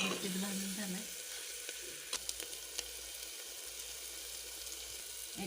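Red chilli powder and pav bhaji masala roast in a pan, a faint, even sizzle with a few sharp stirring taps partway through and a brief tonal hum at the start.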